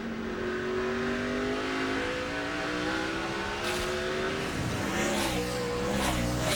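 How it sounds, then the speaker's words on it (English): NASCAR NEXTEL Cup stock car engines at the 2006 Dodge Save Mart 350, a loud continuous roar that climbs steadily in pitch, then drops and rises again with quick gear shifts, with a brief tire squeal as cars pass close. "we can listen to the engine in these guys that have plenty of fuel make it to the end"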